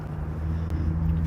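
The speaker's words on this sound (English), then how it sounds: "That engine sound just started right when I started the live stream. It's a loud truck." A loud truck engine drones steadily nearby with a deep low rumble and constant hum, continuous and unbroken.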